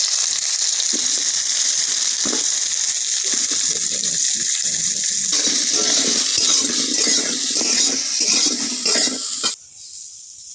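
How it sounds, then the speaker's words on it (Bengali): Pointed gourd (potol) frying in a little oil in a kadai, a loud, close, continuous hissing sizzle that drops off sharply near the end. "কড়াইতে অল্প তেল দিয়ে দেব। প্রথমে পটলটা দিয়ে ভেজে নেব।"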